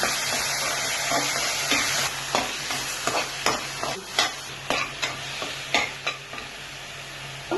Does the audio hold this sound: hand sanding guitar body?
no